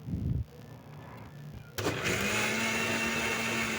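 An electric blender grinds an ulcer relief drink, starting abruptly after a short quieter stretch and then running as a steady, loud, high-pitched whir to the end.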